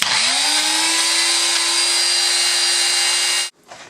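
Nettle pesto ingredients whirl in a countertop blender such as a Vitamix or Ninja, a loud steady motor whine with a constant pitch that cuts off abruptly near the end and leaves faint clatter, with no speech.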